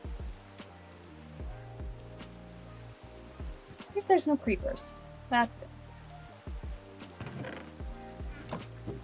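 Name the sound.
rain in a video game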